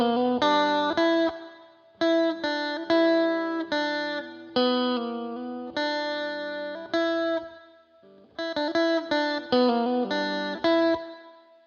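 Electric guitar with effects plays a funk riff, a rhythmic run of clipped, chorused phrases separated by short gaps, loud and alone with no talk.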